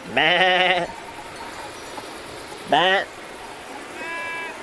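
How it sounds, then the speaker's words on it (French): A flock of ewes with goats among them bleats in the Vanoise mountains. Two loud, wavering, close bleats come a couple of seconds apart, then a fainter, steadier call from farther off follows over an open-air hiss. "Sacré troupeau de brebis là, il y a même des chèvres au fond."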